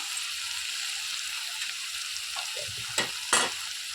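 Kharkol leaves dry-fried in a pan, a soft, steady sizzle close by with a couple of sharper scraping stirs near the end; no talking.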